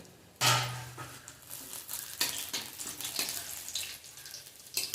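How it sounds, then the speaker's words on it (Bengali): Whole spices (bay leaf, whole garam masala and cumin seeds) hit hot oil for a mutton curry tempering with a sudden loud sizzle, then settle into a steady crackling fry with stirring noises. "ফোড়নটা সুন্দর ভাজা হয়ে গেছে"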